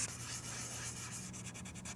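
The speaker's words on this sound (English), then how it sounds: "So that's why we're wet sanding, and that's how we get this to a nice high grit," Close, steady wet sanding of a 3D printed mask, a soft rhythmic scrubbing rasp with short repeated strokes growing more distinct toward the end, no voices.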